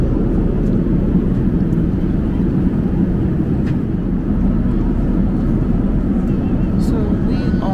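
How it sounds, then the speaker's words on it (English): Loud, steady airplane cabin roar during a long-haul flight to Jamaica, a constant low broadband drone filling the whole stretch. "the plane is either descending or ascending"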